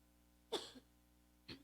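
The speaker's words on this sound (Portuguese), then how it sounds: "só estou tossindo porque coçou." Two short, dry coughs from a woman giving a church talk, one near the start and one about a second later, each brief and close with no speech around them.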